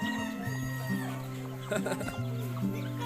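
Chickens cluck busily nearby as they are fed grain in a village yard, with a rooster's crow-like call mixed in and a person speaking over them.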